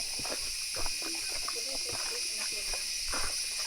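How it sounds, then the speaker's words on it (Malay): Crickets in a highland forest trill in a constant, high, shimmering chorus, with footsteps and soft voices of people walking underneath. "Tengok bunyi cengkerik."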